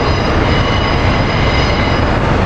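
A close Amtrak train of Amfleet cars rolls past at 30th Street Station in Philadelphia, a loud, steady rumble and roar of wheels on rails with no breaks.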